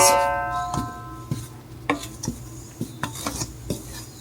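Flour, salt and cinnamon for peach muffins are mixed in a bowl, with a utensil clinking and scraping against its sides in a quick, uneven run of close, fairly loud knocks.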